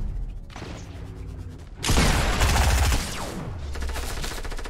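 Heavy automatic gunfire in a Fortnite Season 6 match, with a loud burst of rapid shots up close in the middle flanked by quieter, steady firing.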